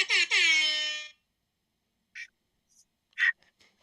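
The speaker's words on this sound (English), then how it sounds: "I found my air horn." A toy air horn gives one loud, brassy honk close by, followed by silence and a few brief squeaky bursts.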